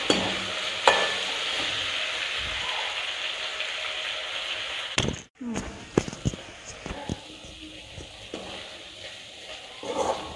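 Chettinad mutton chukka frying with curry leaves, stirred often so it won't stick: a bright, steady sizzle with scraping spoon strokes, a sharp clatter midway, then choppier stirring and crackling as the hiss thins out.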